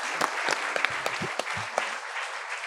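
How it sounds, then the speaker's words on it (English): An audience at a panel on tattoo traditions applauds the panelists, a moderately loud burst of clapping with distinct individual claps standing out, continuing for nearly three seconds. "maybe we should give a round of applause to our amazing panelists"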